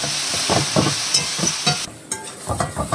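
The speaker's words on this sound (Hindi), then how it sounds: "टमाटो से फ्राए हो" Tomatoes fry in hot oil in a pan, a close, steady sizzle broken by rhythmic scraping bursts as they are stirred, with no talking.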